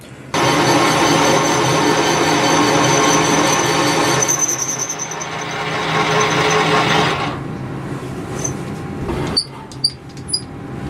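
A machine takes gentle, tiny cuts on a metal boss of a compact power hacksaw blade frame. A steady grinding whir runs for about seven seconds, then fades to a quieter hum with a few sharp clicks near the end.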